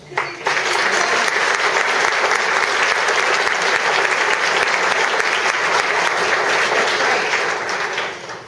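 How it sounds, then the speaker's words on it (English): A crowd at the 2015 'Hats off to Schenectady' fashion show gives a loud, sustained round of applause. It starts abruptly, holds steady for about eight seconds and tapers at the end. "just one more round of applause"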